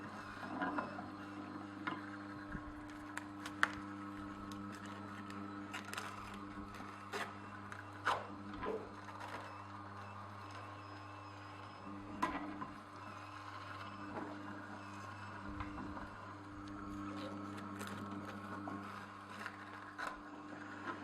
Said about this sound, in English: And once those gears grab it, they're kind of pulling it in.